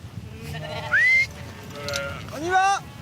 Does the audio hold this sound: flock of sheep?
yes